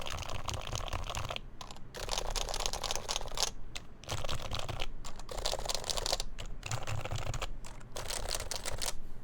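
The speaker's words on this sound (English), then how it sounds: "This is a lubed HHKB. This is stock. Lubed. And silenced." Rapid continuous typing on a lubed and silenced HHKB Professional Hybrid keyboard compared with a stock one, dense clacking keystrokes close up, broken by a few brief pauses between runs.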